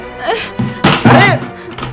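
A motorcycle knocked over and falling, a heavy thud followed by clattering impacts, close and loud, with shouting voices around it.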